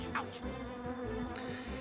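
Insects buzzing in The Grinch PS1 game, a steady droning hum running throughout the short stretch at moderate level, with no voices.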